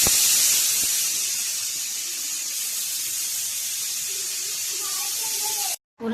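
A pressure cooker with its weight on, cooking potatoes and peas on a stove, hisses steam in a steady, even spray that cuts off abruptly near the end.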